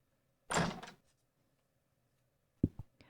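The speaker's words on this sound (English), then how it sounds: "Right as I paused, I heard a knock at the door." A knock at a door in an audio drama: a short burst of knocking, a long pause, then a second quick pair of raps and a faint tap, close and clear against silence.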